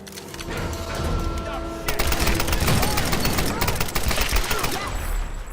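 Rapid gunfire from the Tomb Raider video game, dense bursts of automatic shots and crackling impacts over a steady game backdrop, loud and continuous with a heavier volley in the second half.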